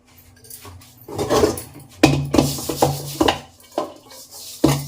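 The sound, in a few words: washing and scrubbing dishes, pots and utensils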